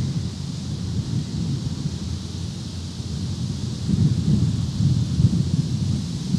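Thunder rolls on a stormy day as a deep, steady rumble under wind and rain noise outdoors, swelling slightly louder toward the end with no voices.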